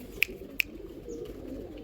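Pigeons kept as quality breeding birds give soft, low, murmuring coos close by, broken early on by two sharp clicks.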